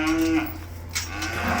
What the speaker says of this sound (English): We've been moving cows and calves, so that's why they're bawling.